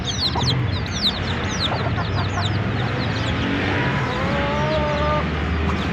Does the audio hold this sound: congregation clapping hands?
no